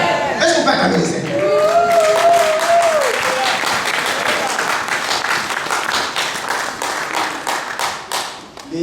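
A church congregation applauds and cheers in praise of the Lord, dense rhythmic clapping building over a speaker's voice and vocal cheering near the start.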